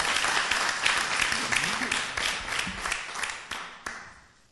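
A church congregation applauds loudly and continuously under a preacher's shouting, the dense clapping fading away near the end.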